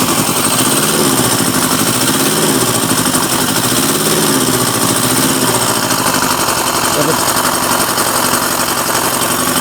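A Kawasaki Z650B motorcycle engine runs steadily and loudly close by, a rough, uneven idle with a slow rhythmic pulsing as it warms up, filling the whole clip with no talk.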